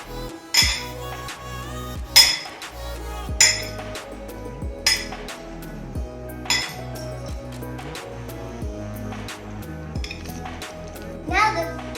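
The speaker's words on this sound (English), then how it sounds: "Then we're going to mix the salad with the forks." Forks clinking against a bowl while mixing a peanut salad, bright metallic taps and scrapes repeating irregularly over a low steady rumble, with a voice chattering nearby.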